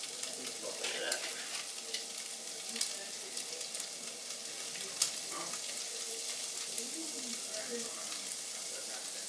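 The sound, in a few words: onions sauteing and sizzling in a pan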